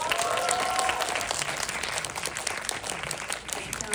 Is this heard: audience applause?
yes